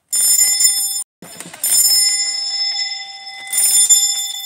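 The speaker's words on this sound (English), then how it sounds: "Ring the bell loudly." A spring-loaded pull-cord doorbell mounted on a wall rings loudly in two sustained bright metallic bursts separated by a brief gap, with a lingering ringing tone between strikes; no voices.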